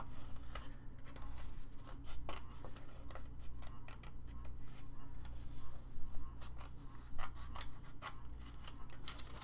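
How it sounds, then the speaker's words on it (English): Scissors snip through paper in a steady run of sharp, crisp cuts, close and fairly quiet over a faint background hum. "I gotta snip this out of here so I can cut it"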